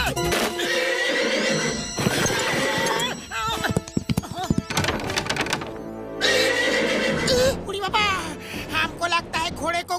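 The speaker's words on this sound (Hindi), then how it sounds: "वो देखो, घोड़ा खुला घूम रहा है, ऐसे तो वो बाहर भाग जाएगा।" Loud, repeated neighing and whinnying of a loose horse, close by, mixed with clip-clop hoof knocks and thuds, with people talking in between the calls.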